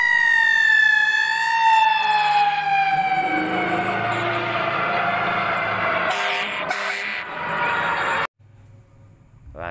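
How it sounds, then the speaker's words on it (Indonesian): A toy fire truck siren wails loudly with a falling, wavering tone, then cuts off abruptly near the end, leaving a quieter rumble. "ada mobil pemadam kebakaran guys"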